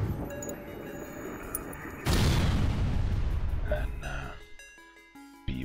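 In the space strategy game FTL, weapons fire strikes a ship's medical bay with a loud, sudden explosive boom that rumbles and fades over a few seconds above a steady electronic game soundscape.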